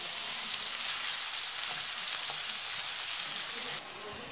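Vegetables and meat fry in hot oil for rice à la provençale, a loud continuous close sizzle with crackling that drops slightly in level near the end, with no talking.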